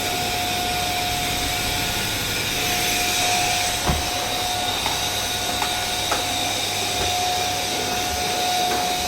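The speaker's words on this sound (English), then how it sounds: "And you vacuum" A vacuum cleaner runs steadily with a loud, constant whine and airy roar, close by, with a few faint knocks as it moves across the floor.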